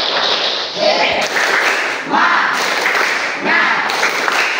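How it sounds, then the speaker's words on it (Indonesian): Classroom of standing pupils performing a rhythmic spirit clap, bursts of clapping in a patterned beat repeating about every second, close and fairly loud with voices mixed in. "Tepuk semangat."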